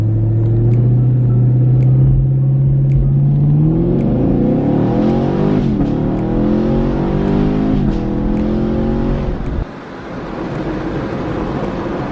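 A 2019 Camaro SS V8 revs hard and loud while held on the foot brake, its engine note climbing steadily for several seconds before cutting off abruptly near the end.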